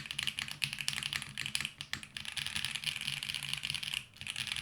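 Typing on a custom-built LAZYDESIGNERS Duo60 mechanical keyboard: a steady, rapid stream of crisp key clacks, close to the mic, with only brief pauses and no voices.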